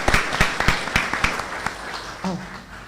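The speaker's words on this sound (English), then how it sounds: "So let's give a round of applause to our top 10 students from Mercedes Early College." A small group at a school district board meeting claps, a sparse, uneven patter of individual claps that thins out after a couple of seconds as a voice briefly speaks.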